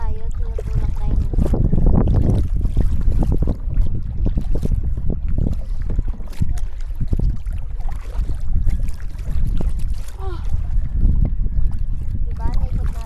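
Strong wind buffets the microphone while kayaking against the breeze on Yambo Lake, a steady low rumble that lasts throughout, with a voice speaking over it.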